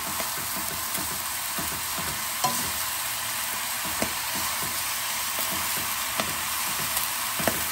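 Fresh spinach stir-frying in a hot one-pan dish with sea trout and buckwheat noodles, a steady close sizzle broken by scattered sharp clicks of stirring against the pan, with no talk.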